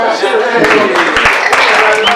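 Wedding guests breaking into a round of applause, a short burst of clapping that builds under lingering voices and chatter, close and fairly loud.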